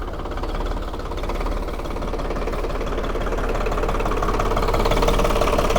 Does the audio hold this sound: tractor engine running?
yes